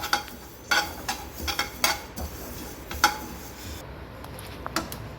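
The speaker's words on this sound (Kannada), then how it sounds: "ನೋಡಿ ಇದು ವೀಕ್ಷಕರೇ ಈ ಥರ ಶಬ್ದ ಬರಬೇಕು ಆವಾಗ ಸೋಂಪಿನ ಕಾಳು ಆಗಿದೆ ಅಂತ" Fennel seeds dry-roasting in a pan while being stirred, giving scattered crackles and sharp scraping clicks in irregular bursts, close and fairly clear with no talk.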